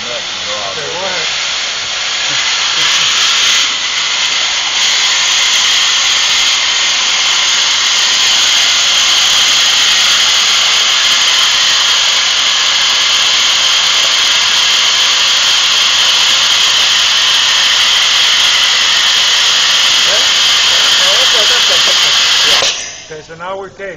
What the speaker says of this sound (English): Now I just released my parking brake, right?